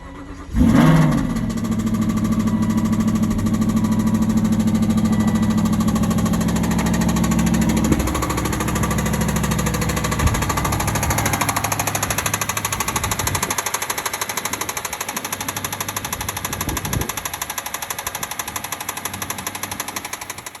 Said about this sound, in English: Here's a V8 with a spun big end bearing.